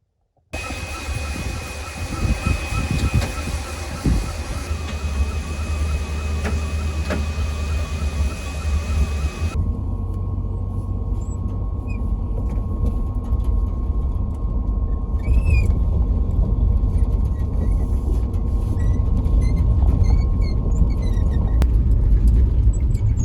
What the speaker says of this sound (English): this is the morning test drive that we're going on in our old Dodge pickup that Ruben was working on last night